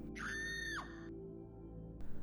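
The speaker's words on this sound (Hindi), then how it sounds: "कॉरिडोर के एंड में लेफ़्ट साइड वाले बे रूम की तरफ से एक चीख सुनाई दी" A single shrill scream rises, holds and falls for under a second, followed by a second faint cry, over a steady low hum in a hospital corridor at night.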